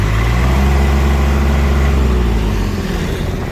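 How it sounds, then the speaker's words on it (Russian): A cold Kubota Aste A17 tractor engine runs loud and close with a steady, throbbing low drone and no voices. "Смотрим, холодный трактор, поэтому сильно насиловать его не хочется."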